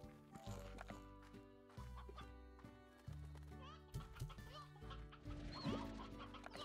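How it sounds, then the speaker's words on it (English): Chickens cluck in the video game Slime Rancher 2, with repeated busy clucks under game music and a person talking throughout. "Older rooster."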